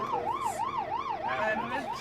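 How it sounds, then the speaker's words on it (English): An ambulance siren wails in a fast rising-and-falling cycle as it passes stopped traffic, clear and fairly close, with a background of road noise beneath it. "So this is the ambulance."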